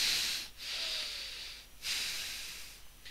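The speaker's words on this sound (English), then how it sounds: "try to use your nose to breathe" Audible breaths drawn through the nose, with a soft, airy hiss in long rhythmic pulses separated by brief pauses, close and fairly quiet with no talking.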